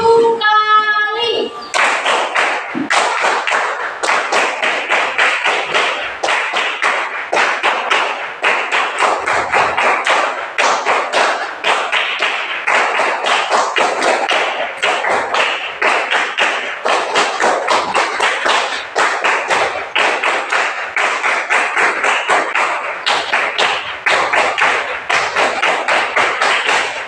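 A group of schoolchildren does Pramuka scout rhythmic clapping, a loud, fast, steady run of sharp claps that continues without pause for the whole stretch, with brief voices at the very start.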